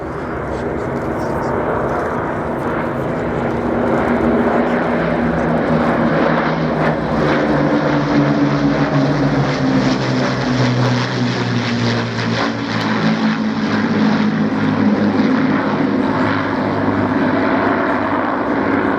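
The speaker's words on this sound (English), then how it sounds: "Plain Sailing's Catalina, completing its Britain's memorial flight." The Catalina flying boat Plain Sailing flies past at the Shoreham Airshow with a droning piston-propeller rumble that swells and holds, while a commentator talks over it.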